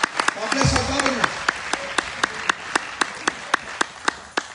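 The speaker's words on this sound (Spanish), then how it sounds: "Un aplauso al gobernador." Church congregation applauding the governor: a brief burst of crowd noise followed by spaced, sharp individual claps in a slow, irregular rhythm, with a voice at the start.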